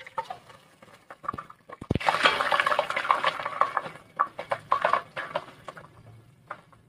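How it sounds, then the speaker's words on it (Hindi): Raw chicken liver drops into about a cup of hot oil in a pot with a soft thud, followed by bursts of sizzling and clattering spoon-against-pot stirring, close and uneven, with no talk. "अब हम इसमें अपनी कलेजी डालेंगे।"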